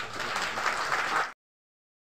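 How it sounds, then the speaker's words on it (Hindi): Audience applause at a NABARD-supported rural development gathering, a steady burst of clapping from a crowd lasting just over a second before cutting to silence. "उनके लिए एक जोरदार ताली"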